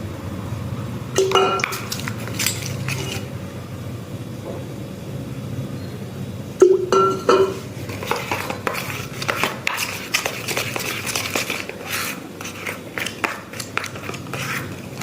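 Thick magic wax paste being stirred and mixed in a small container, giving soft scraping and clinking taps of the utensil against the bowl, with a louder burst of clinks partway through; no talking.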